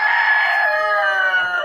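Chickens in a winter barn on a small farm, a close, loud, continuous flock call with harmonic squawking and clucking filling the short moment, no talk over it.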